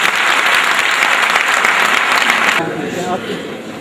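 A large hall audience at a community gathering breaks into loud, dense applause that holds steady, then drops to a lighter patter near the end.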